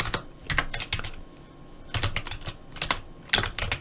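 Quick bursts of typing on a computer keyboard while entering a chart title in a spreadsheet, close and crisp clicking keystrokes in uneven clusters with short pauses between.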